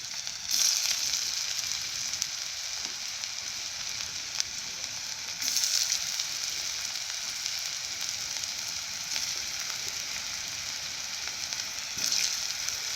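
Banana fritters frying in hot oil in a wok over moderate gas, giving a steady close sizzle with a few brief louder bursts and occasional faint stirring touches, no voices.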